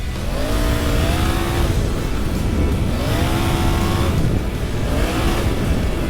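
A Triumph Tiger 900 Rally Pro motorcycle, 95-horsepower engine, rides off-road, close and loud, with the engine revving up in repeated rising surges, about three pulls with brief backing off between them.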